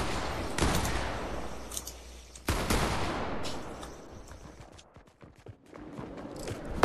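Gunfire from the Fortnite video game: two loud, sharp bursts of shots land close together near the start, then lighter scattered cracks and clatter trail off over a steady background.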